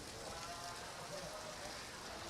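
Heavy, wind-driven rain falls almost sideways at a kart racing circuit, a dense, steady broadband hiss of drops hitting surfaces throughout, loud and continuous with no other sounds breaking through.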